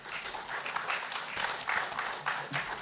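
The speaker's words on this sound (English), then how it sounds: "Please give them a huge round of applause." Audience applause for panelists taking the stage at a food safety technology conference, a steady wash of many hands clapping throughout with no speech over it.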